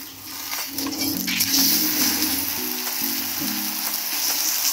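A maize flour paratha fries in oil and ghee on a hot griddle, sending up a close, continuous sizzle and crackle with faint scraping and clinking of a utensil.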